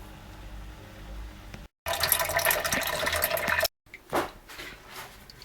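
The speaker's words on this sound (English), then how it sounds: "now I shall allow the cistern to fill up with water" Water rushing into a toilet cistern as it refills behind a Fordham Flushpanel siphon, a steady broadband gush with brief breaks, then a short surge near the end, close and fairly loud.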